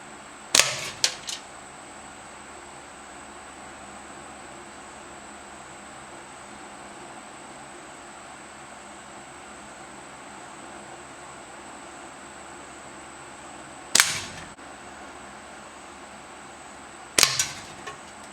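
Homemade carved slingshot fired from about five yards away, giving three short sharp snaps spread across the stretch, each a quick crack against a quiet outdoor background.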